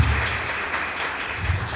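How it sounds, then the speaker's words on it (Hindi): Audience applause at a talk on superstition, a steady dense clapping wash held at an even level for the whole short stretch with no voices over it. "या ताली बजा सकते हैं आप"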